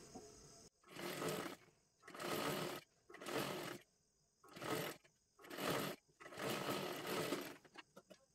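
A sewing machine double-stitches a sleeve in seven loud, close bursts of rapid whirring, separated by short pauses.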